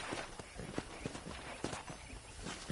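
Hooves clip-clop in a quick, steady rhythm as a horse is ridden in Red Dead, the beats sounding fairly close under a faint ambient wash.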